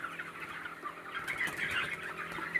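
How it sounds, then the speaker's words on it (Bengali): Young broiler chickens at a poultry farm cluck and chirp softly in a dense crowd, a continuous murmur of overlapping calls at a fair distance with a faint background hum. "আর এই দেখুন আমাদের মুরগি"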